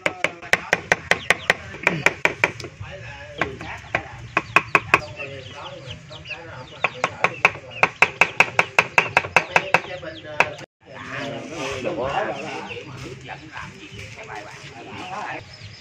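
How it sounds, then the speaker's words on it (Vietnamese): Knife mincing garlic with its peel on, plus lemongrass, on a cutting board in a home kitchen, making rapid bursts of sharp chops in steady runs. Chickens cluck in the background and people talk throughout. "Tỏi này bằm luôn vỏ luôn cho thơm ha."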